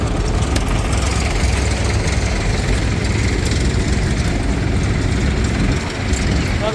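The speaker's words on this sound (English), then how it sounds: "Another lovely little engine." A small vintage stationary engine runs steadily at the Clarendon Classic show, a dense, continuous low chugging rumble with a loud, even drone, while outdoor noise and faint voices mix in.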